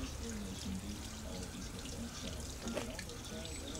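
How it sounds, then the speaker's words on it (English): Broadband churning water noise around a 9.9 outboard boat motor that is not running, steady and fairly loud, with a low hum underneath and faint voices in the background. "Motor's in some water, you can hear it."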